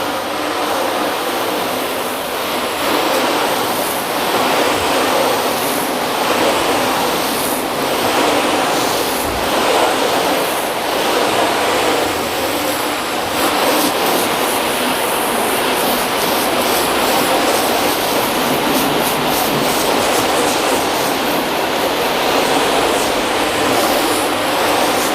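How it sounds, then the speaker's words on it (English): A steady, loud water spray rinses dust off a car coated with spray sealant, a continuous hissing wash running for the whole stretch with no talking. "let's get into a initial rinse, get some of this dust off there and see how they're looking"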